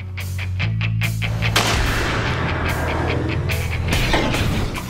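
A bullet fired into a steel pipe gives loud, dense, sustained rumbling and ringing with repeated sharp cracks throughout, close and with no voices.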